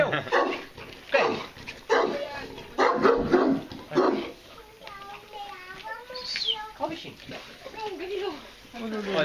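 Fila dogs bark in Portugal, several loud, close barks in bursts during the first few seconds, followed by whining and yelping while people talk nearby.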